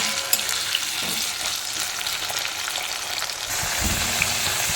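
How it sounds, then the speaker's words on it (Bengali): Potato pieces fry in oil in a pan, lightly browned, producing a steady, dense, close sizzle that swells slightly louder toward the end, with no talking. "আলুগুলো আমার মোটামুটি হালকা হালকা ভাজা হয়ে গেছে"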